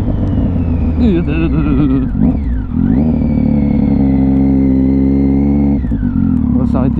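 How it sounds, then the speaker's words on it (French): Revs from a three-cylinder motorcycle rise and fall in pitch, then settle into a loud sustained high note before dropping back, close up with no talking. "Sublimé par le son du 3 cylindres"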